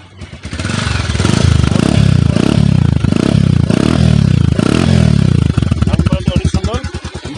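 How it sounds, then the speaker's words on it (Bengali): A Bajaj Pulsar 150cc motorcycle is self-started, then its engine runs loud and close with a steady, throbbing idle that settles toward the end. "এবার আমি আপনাকে বাইকটা সাউন্ড কোয়ালিটি দেখাবো। দেখেন সেলফ স্টার্ট,"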